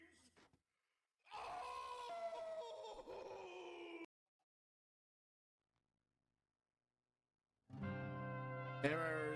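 Howling, wailing screams in a horror game audio log come in two strained vocal bursts separated by a stretch of dead silence, the second ending in a rising shriek.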